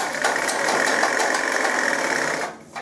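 A tailoring sewing machine sews the leg seam of a pair of trousers, giving a steady, close mechanical whir that runs for nearly three seconds and then stops abruptly.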